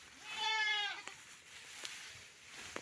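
A goat being fed gives a single drawn-out, wavering bleat up close, followed by faint clicks and quiet ambient noise.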